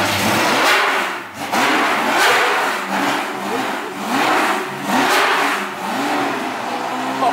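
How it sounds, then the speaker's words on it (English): A Lamborghini Murcielago engine fires up and revs repeatedly in a garage setting, loud and close, with several rising blips of throttle in an uneven rhythm. "he's gonna start in the engine"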